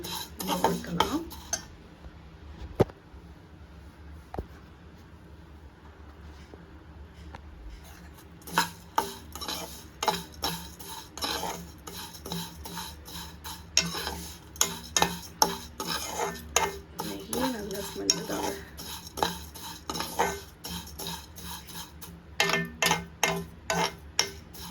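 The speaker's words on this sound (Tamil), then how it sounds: "இதை நல்லா அந்த நெய்யிலேயே போட்டு நம்ம வறுக்கலாம்" Ingredients roast in ghee in a pan on a gas stove for paal payasam, with repeated close scraping and clinking stirs over a faint sizzle that grow busier and more rhythmic in the second half.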